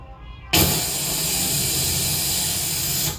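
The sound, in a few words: hissing imitation of helium inflating a balloon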